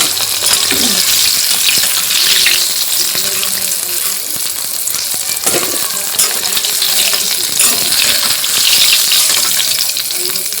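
Fish curry cooking in a pan, a steady loud frying sizzle that holds throughout with occasional clinks and stirring noises.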